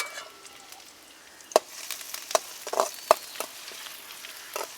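Chopped garlic and ginger frying in a pan for a Kerala-style chicken dish, giving a soft steady sizzle broken by a few sharp clicks and scrapes of stirring, close and fairly quiet with no talk.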